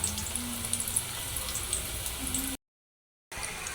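Onion paste and garlic paste frying in a pan, a soft steady sizzle with faint crackles, cutting out briefly before resuming.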